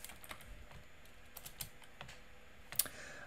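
Someone types code into a Jupyter notebook in VS Code, a quick run of close, light computer keyboard clicks with one sharper keystroke near the end.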